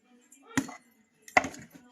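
A knife chopping onions on a board, with two distinct sharp chops about a second apart and a few lighter taps after them. They are close and fairly quiet.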